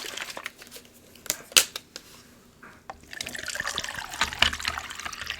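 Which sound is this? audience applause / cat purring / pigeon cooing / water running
water running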